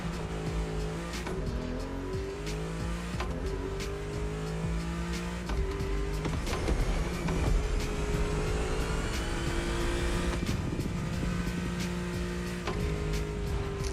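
A BMW M4 in The Crew Motorfest racing game accelerates at full throttle, its engine climbing through repeated rising pitches between gear shifts, loud and continuous with faint tire noise.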